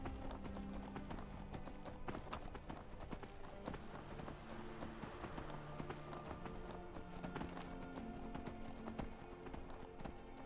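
Horse hooves in Skyrim clip-clopping steadily at a riding pace, a quiet continuous rhythm of hoofbeats over faint game ambience, with no speech.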